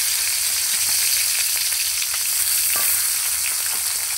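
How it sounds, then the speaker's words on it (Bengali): Pieces of katla fish frying in hot oil, a loud continuous sizzle with small crackles and pops throughout, close up and with no talking. "একইভাবে বাকি মাছগুলোও ভেজে নেব।"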